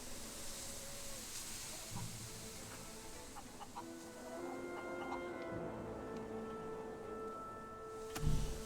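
Chickens in the video game Fable III cluck and squawk over a steady hissing background, with scattered bird calls and a louder burst near the end.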